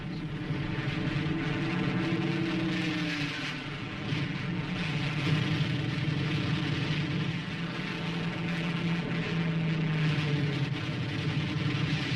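Navy carrier propeller planes flying over Korea in 1950, a steady droning engine roar with slowly rising and falling pitch, continuous and fairly loud without voices.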